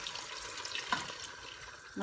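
Water runs from a tap into a cooking pot holding spiced chicken broth, cabbage and meat for lamb kalamuudo, a steady close splashing flow with a couple of brief clinks.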